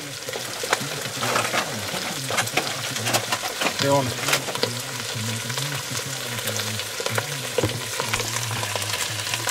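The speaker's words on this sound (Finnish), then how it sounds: "Kaikessa rauhassa siinä kun se tirisee." Food sizzling and frying in a pan during home cooking prep for liver casserole, a steady crackling hiss throughout with someone talking over it.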